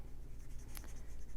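Alcohol markers coloring on paper, a soft continuous scratchy rubbing of felt tips against the sheet, faint and close, with a brief sharper squeak of the tip midway, no voices.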